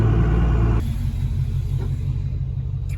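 A second-gen 24-valve Cummins diesel truck engine rumbles loudly, then settles into a lower, steady idle after the truck is shifted into gear and parked, heard close and alone.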